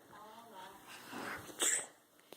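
A single sneeze from a small child at home, a short sharp burst near the end following soft breathy vocal sounds, with a voice speaking nearby.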